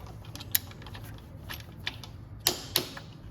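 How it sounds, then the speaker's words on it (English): A torque wrench ratchets as it tightens the frame protector bolts on a Triumph Daytona 660 motorcycle: soft, quiet mechanical clicks scattered through the clip, ending in two sharp, louder clicks close together. "I'll just nip them down with a torque wrench."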